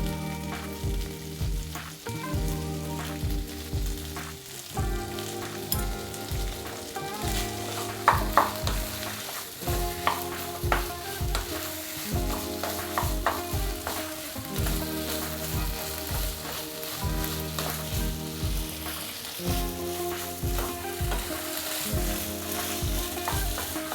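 Vegetables with a pinch of salt fry in a pan for aloo sabzi, a constant sizzle with stirring sounds, under a rhythmic musical backing that repeats through the whole stretch.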